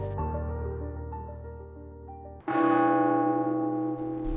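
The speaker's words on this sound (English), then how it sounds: "the bells of Saint-Germain-l'Auxerrois began to ring. At first, softly, then violently." Church bells of Saint-Germain-l'Auxerrois in Paris ringing, a soft sustained tolling that suddenly swells into a loud, bright, ringing peal partway through.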